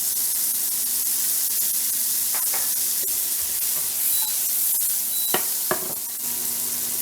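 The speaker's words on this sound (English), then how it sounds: "now I'm going to go in with my peas so I can let them cook a bit" Peas sizzle and fry steadily in a frying pan, a close hiss with a few sharp scraping stirs near the end, no voices.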